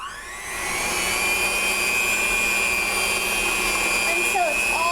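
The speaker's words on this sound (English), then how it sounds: "we're going to blend this with the mixer." An electric mixer blends peanut butter cookie dough for peanut butter blossoms, its motor whine rising at the start, then holding as a loud, steady hum throughout.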